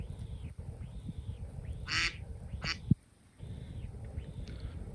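An iPhone 15 Pro duck ringtone, two short, bright quacks ringing out a moment apart, followed by a brief knock and a pause, over a faint steady hum.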